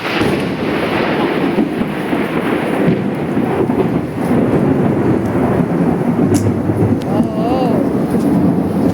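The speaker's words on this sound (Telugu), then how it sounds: "క్లైమేట్ భయంకరంగా ఉరుములు వస్తున్నాయండి" Thunder rolls through a thunderstorm with rain, a steady loud rumble that lasts throughout, with a voice talking over it near the end.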